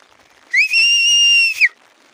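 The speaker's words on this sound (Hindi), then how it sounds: "दोनों उंगली मुंह में लो और फिर सीटी मारो।" Two-finger whistle blown as a warning signal on the Vasudhara trek near Badrinath, one loud, piercing, steady blast about a second long that rises sharply at the start and drops at the end, heard alone.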